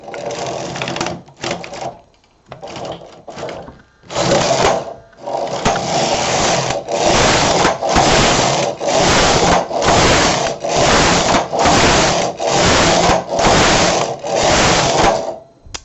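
A domestic knitting machine carriage sweeping back and forth across a full bed of needles with wool, making loud rasping passes; a few short irregular strokes give way to a steady run of about eleven evenly spaced rows.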